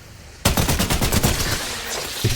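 Sudden rapid automatic gunfire from a video game, fired at fences, a fast stream of sharp shots lasting about two seconds, loud and close.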